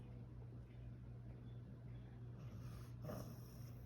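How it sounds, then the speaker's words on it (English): A puppy resting in a crate lets out one soft, breathy sigh near the end, faint and close, over a quiet low background hum. "There's a little sigh, which usually comes right before this."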